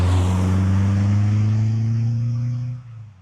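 A Caterham 310R sports car drives past with a loud, sustained engine drone that holds a steady pitch, then fades away over about three seconds.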